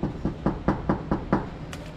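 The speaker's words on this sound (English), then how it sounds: "Knock on the door." Seven sharp knocks on a front door in an even, quick rhythm, loud and close, trailing off into a brief lighter tap at the end.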